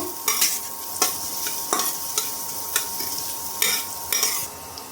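Chopped garlic and green chillies fry in hot oil in a pan, a steady sizzle broken by regular scraping stirs of a spatula, close and moderately loud with no talking.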